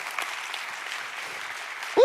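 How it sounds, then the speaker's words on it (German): A church congregation applauds steadily at a worship service, a dense, even wash of many hands clapping at moderate level, with a brief louder tonal sound cutting in at the very end. "Lass uns für das Gott einen Applaus geben."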